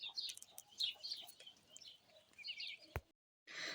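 Faint, high-pitched chirps and squeaks come in scattered bursts from pigeons in a coop, with a short sharp knock and a moment of silence before the sounds resume.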